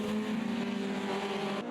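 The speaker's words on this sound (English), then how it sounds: "I love hearing them come down that start-finish straight, and just as they off-throttle and start hitting the brakes and downshifting, sound terrific." Formula Junior race cars braking and downshifting on a start-finish straight, with a loud, sustained engine note and steady harmonic drone that holds close throughout before dipping briefly near the end.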